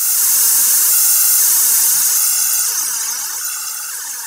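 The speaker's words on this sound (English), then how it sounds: "So we have a flange effect." Noise run through a flange effect in Max 7 produces a loud, steady hiss with sweeping, whooshing comb-filter waves rising and falling in repeated cycles, fading slightly at the end.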